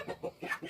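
Young chickens cluck on a farm during morning chores, a few short close calls in quick succession with no talk.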